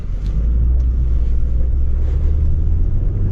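A second-generation Toyota Sequoia in 2-wheel drive pulls away from standstill in first gear, a deep, steady engine rumble heard from inside the cabin, loud and continuous with no speech.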